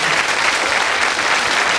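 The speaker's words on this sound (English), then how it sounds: "Give them a round of applause." A TV game-show studio audience from a 1985 broadcast breaks into loud, dense applause, a continuous wash of clapping with no pauses.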